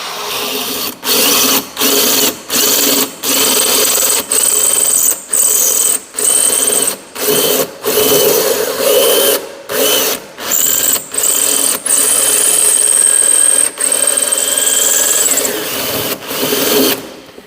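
A diamond-tipped hole saw cuts through wall tile. Its whine starts and stops in short bursts, then runs in longer sustained stretches broken by brief pauses. The sound is close and loud, with no voices.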